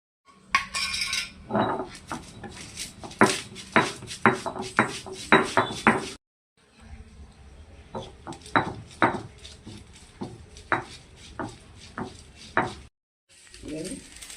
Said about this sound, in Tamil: அம்மியில் அரைச்சி வைக்கிறேன்